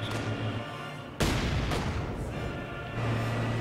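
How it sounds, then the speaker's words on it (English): Russian mortar firing in the Company of Heroes 2 video game, a sudden loud boom with a second blast shortly after, each trailing into rumbling battle noise over a low background drone. "a Russian mortar is firing away"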